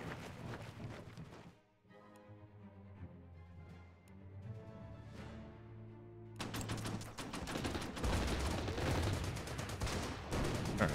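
Aircraft bombarding Le Havre in the strategy game Order of Battle: Blitzkrieg, with dense booming bursts of fire at the start and a longer, louder barrage after a calmer, tonal stretch in the middle.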